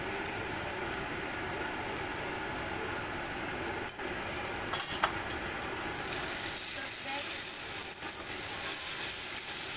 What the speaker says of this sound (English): you have to saute them, mix all together.